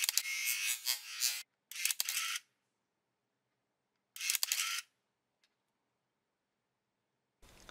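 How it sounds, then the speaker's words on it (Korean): Shutter of an old film camera, revived after a battery leak, fired with the film door open: four quick mechanical bursts of whirring and clicking, close and crisp, separated by silence. "필름 뚜껑을 열어서 셔터를 눌러보면"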